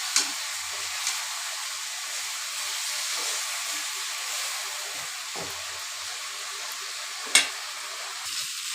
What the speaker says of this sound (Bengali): এটা আমার সাতলানো হয়ে গেছে